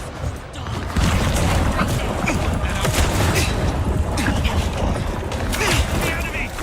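Rapid automatic shotgun blasts in the game Vampire: The Masquerade – Bloodlines 2 boom in a dense, chaotic barrage amid clattering combat mechanisms, loud and sustained throughout.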